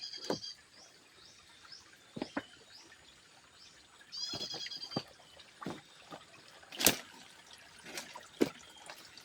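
A clear spring trickles and drips nearby, with soft bubbling and sporadic sharp water plinks, accompanied by a few high chirping calls in the background.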